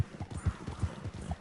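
Rhythmic clip-clop of a horse's hooves galloping in a PS4 video game, steady repeated thuds at a quick even pace with no talking.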